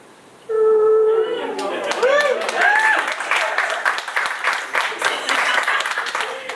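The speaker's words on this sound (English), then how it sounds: "I get clapping for that." An audience claps warmly at a small convention gathering for a musician, starting abruptly and continuing as dense, uneven applause. Whooping and excited voices ring out above it near the start.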